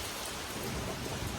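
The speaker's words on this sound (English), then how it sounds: "it is absolutely torrentially downpouring right now" Heavy torrential rain pours down outside during a Midwest storm, a dense, steady roar of hiss with no voices.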